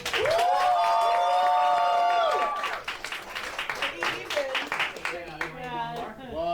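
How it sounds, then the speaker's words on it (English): Crowd at a New York roast battle comedy night votes for a contestant with clapping and a burst of shouted cheers, the cheering fading into looser applause and a voice rising near the end. "Clap if you guys think the winner is Yoshiko Watson."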